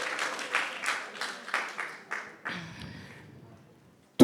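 A church congregation claps in a steady rhythm, about eight evenly spaced group claps that fade into scattered clapping and then near silence.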